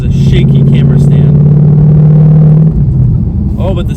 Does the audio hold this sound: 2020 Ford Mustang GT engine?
yes